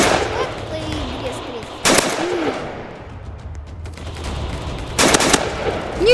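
Gunfire in a soldier simulator video game comes as two loud, sharp bursts of rapid shots separated by a few seconds, with fainter game sounds in between.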